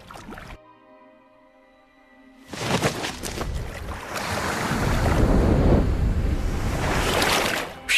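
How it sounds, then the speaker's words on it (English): Ocean surf washing onto a beach, a broad rushing roar that swells up after a quiet opening with a faint tone and grows steadily louder, mixed with wind buffeting the microphone. "At last, the sea."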